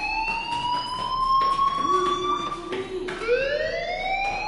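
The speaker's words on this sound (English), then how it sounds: "do you hear that fire alarm?" A school fire alarm in the video game Life is Strange wails continuously, its rising and falling siren tone loud and steady, with no talking.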